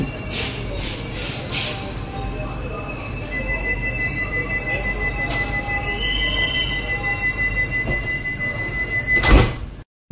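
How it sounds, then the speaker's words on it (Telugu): A Vande Bharat Express train pulls out of a station and rolls steadily with a low rumble and a long metallic squeal, a few clunks early on, and a sharp bang near the end. "1 నిమిషం హాల్ట్ తర్వాత మన ట్రైన్ తిరిగి బయలుదేరింది."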